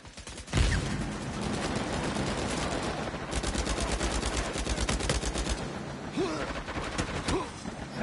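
Sustained automatic gunfire in the Uncharted 4 multiplayer video game, rapid continuous bursts with brief pauses between them, loud and close throughout.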